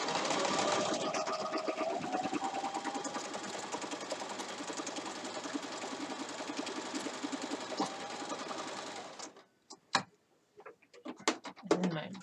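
A sewing machine used for quilting runs at a steady whirring pace for about nine seconds, then stops, leaving a few scattered clicks and knocks.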